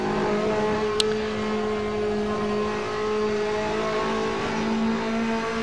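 A Ferrari 458 GT2 race car engine in Assetto Corsa idles at a steady, loud drone on the grid at a race start, with one brief sharp click near the start and no voices.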